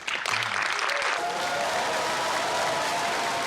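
Audience applause bursts out for director Bong Joon-ho at a screening of Memories of Murder, starting with brief murmurs and quickly swelling into dense, sustained clapping from a full house.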